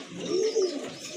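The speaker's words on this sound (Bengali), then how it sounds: "আরেক জোড়া কবুতর, অনেক বড় সাইজের এক জোড়া রেড চেকার কবুতর" A large pair of red checker pigeons giving a single soft, throaty coo that swells twice, close and clear with no voices.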